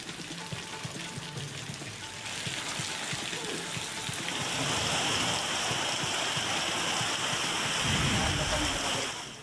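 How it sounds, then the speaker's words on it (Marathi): Heavy rain falling in a rural district of Wardha, India, a steady broadband hiss that swells louder midway and stays dense to the end, with no voices. "वर्धा जिल्ह्याच्या अनेक भागामध्ये जोरदार पाऊस बरसतोय।"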